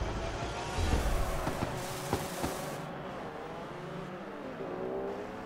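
A Honda S2000 engine in the racing game Forza Horizon, a steady loud car drone with some revving and a few sharp clicks, close and continuous with no talking.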